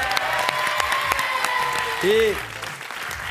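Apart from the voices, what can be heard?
studio audience applause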